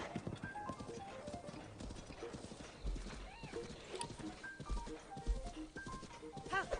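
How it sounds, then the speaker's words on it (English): A horse in a Zelda video game clops along with steady hoofbeats and gives a few whinnies, all quiet and thin in the game audio. "Is that just the horse noise"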